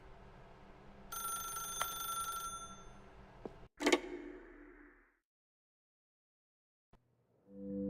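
A telephone rings in The Stanley Parable: Ultra Deluxe: about a second of bright electronic ringing, then a hard clunk and a sharp knock, after which the scene falls almost silent apart from a later soft click and swelling tone.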